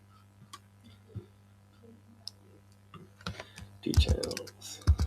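Someone types a prompt on a computer keyboard: scattered key clicks at first, then denser, louder bursts of tapping with a few heavier thumps near the end.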